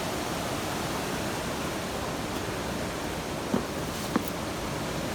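Heavy water rushes and roars steadily close by, a river running high after a lot of rain where no bridge stands, with a couple of faint clicks near the end and no talking.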